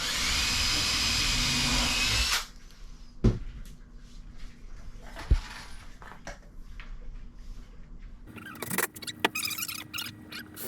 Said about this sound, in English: Go ahead and pre-drill a few more holes.